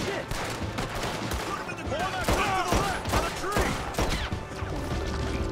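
Pistol shots in Red Dead Redemption 2 ring out in a quick irregular string over a busy, noisy firefight mix, with sharp cracks spread across several seconds.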